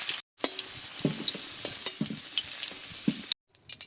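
Potato pieces sizzle steadily in hot oil, likely mustard oil, with stirring scrapes and occasional clinks of a utensil against the pan, close up and with no talk.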